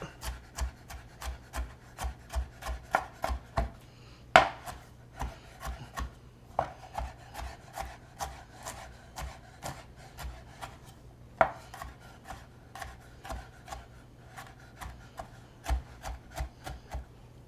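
Sliced chicken being rough chopped with a knife on a cutting board, a close run of sharp rhythmic knocks in quick bursts with short pauses and a few harder strikes, no speech.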